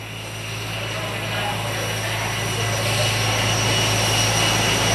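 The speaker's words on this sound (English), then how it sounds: "Engines just shutting down momentarily" Air Force One's jet engines winding down after landing at Paya Lebar Airbase, a loud steady roar and whine that slowly builds, with a reporter talking over it.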